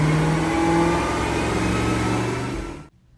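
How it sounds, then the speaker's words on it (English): A Porsche Panamera Turbo, tuned to over 700 horsepower, revs hard and loud on a chassis dyno, holding a sustained roar before cutting off abruptly near the end. "Put it on the chassis dyno, of course."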